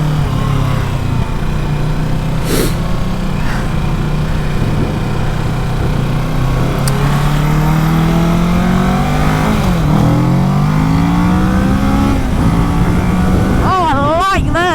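A 2020 Kawasaki Ninja 650 motorcycle engine revs up and down while riding, its pitch climbing and falling in loud sweeps with wind noise underneath.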